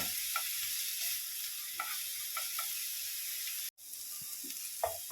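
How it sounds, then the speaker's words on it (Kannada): A soft, steady sizzle of grated coconut frying in a pan, with occasional faint stirring scrapes, close by and with no voices. "ತೆಂಗಿನಕಾಯಿ ಹಾಕ್ಕೊಂಡು ಫ್ರೈ ಮಾಡಬೇಕು ಸ್ವಲ್ಪ 2 ನಿಮಿಷ"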